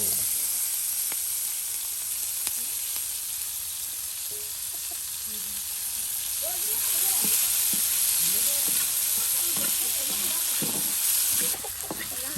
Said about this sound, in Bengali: নানি তেলের সাথে করে নিচ্ছে এই যে এখন দিয়ে দিল পেঁয়াজ কুচি মরিচ কুচি রসুন কুচি সব একসাথে দেখো